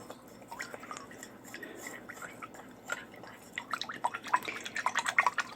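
Liquid being stirred to dissolve salt in a rust-making solution for metal items, soft sloshing and dripping with small clinks that grow busier toward the end, quiet and close.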